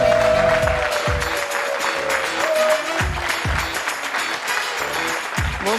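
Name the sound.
studio audience applause for the contestant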